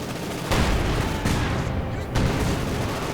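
In Company of Heroes 2, massed gunfire rattles in dense overlapping bursts and booms with no pauses, an unbroken battle din.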